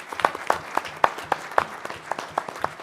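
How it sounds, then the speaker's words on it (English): Applause at a county board meeting for a retiring sheriff's sergeant investigator, a small group clapping in a loose, fairly regular pattern of distinct, close claps. "If we could please give him a round of applause."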